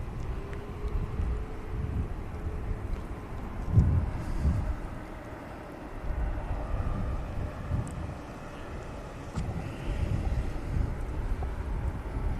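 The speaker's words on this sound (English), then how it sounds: "And you just hear the Hainan beginning its taxi, spooling those engines up." Hainan airliner at Manchester Airport spooling up its engines to begin taxiing, a low rumbling roar that swells and fades under steady wind noise, heard from a distance with no talk.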